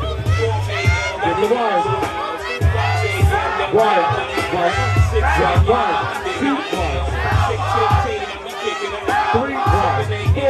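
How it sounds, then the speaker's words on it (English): A crowd at a ball with fem queen realness battles cheers and shouts steadily, a dense and loud mass of voices with people talking over it throughout. "Give her a round of applause, thank you"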